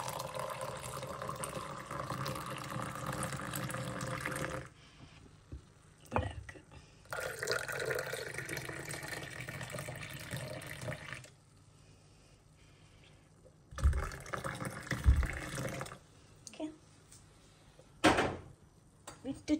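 Boiled milk is poured for tea in a home kitchen, a soft liquid stream running in a few separate bursts with quiet gaps between, while a person speaks.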